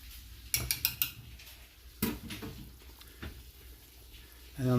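A spoon clanks against a pot of green chili pork pozole as it is stirred, a few sharp metallic knocks and scrapes in quick bursts, close and fairly quiet, with some kitchen clatter.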